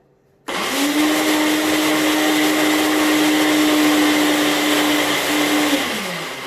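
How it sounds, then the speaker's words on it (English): An electric food processor blending chocolate milk starts abruptly and holds a loud, steady motor whine with a high buzzing edge for about five seconds, then winds down as it stops. "This machine is called a food processor."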